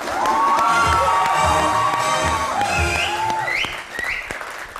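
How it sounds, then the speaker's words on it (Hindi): Loud, sustained applause from a crowd, with cheers and a few shouts rising over the clapping before it gradually thins out. "बहुत सारी तालियां"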